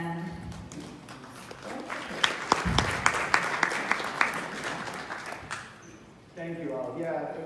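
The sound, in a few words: audience applause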